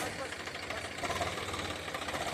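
A farmer's tractor runs in a wheat field during harvest, a steady mid-pitched engine chug with a rough, knocking rhythm that holds continuously at close range, with people talking over it.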